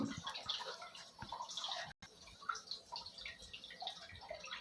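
Water flushes through the post carbon filter of a Livpure water purifier, a soft, close trickle and splash with scattered drips that continues unevenly and pauses briefly midway.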